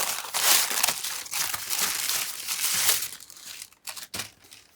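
Tissue paper crinkles and rustles up close while a tarot deck is being unwrapped, in bursts of loud crackling that thin out into a few sharper crumples near the end.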